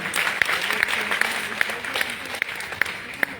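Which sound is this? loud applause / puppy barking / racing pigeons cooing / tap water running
loud applause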